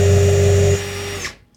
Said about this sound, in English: so now I'm going to take the 36, put my drill in reverse